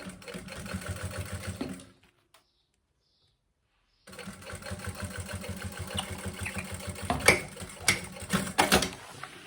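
A sewing machine stitches a reinforced strap on a maternity bag with fast, rhythmic mechanical chatter. It pauses for about two seconds, then runs again with a few sharper clunks toward the end.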